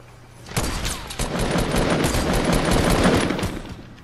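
Rapid bursts of gunfire in a Fortnite Battle Royale match, loud and close, starting abruptly and continuing as a dense rattling volley for several seconds with no talk over it.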